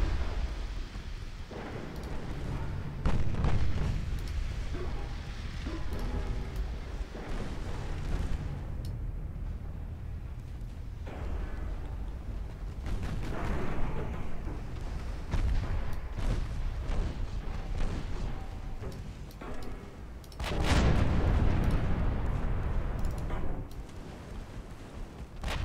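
Battleship main guns fire in a chaotic naval game battle, with heavy booming blasts rolling through a dense rumbling background and one especially loud, close salvo near the end.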